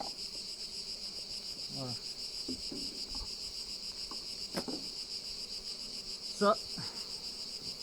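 Bees buzz around outdoor beehives in a steady, continuous drone, with brief speech in French breaking in over the hum.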